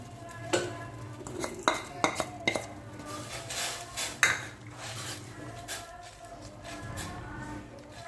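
A spoon clatters and scrapes against a metal pot in bursts of clinks as jaggery is stirred into boiling water, with a low bubbling simmer underneath; no voices.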